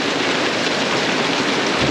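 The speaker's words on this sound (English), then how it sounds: "Wow, it's really letting down. I think this is the biggest rainstorm we've had." Heavy monsoon rainstorm with hail at an RV base camp, a dense, loud, unbroken roar of rain hammering surfaces and pouring off an awning, with no voices.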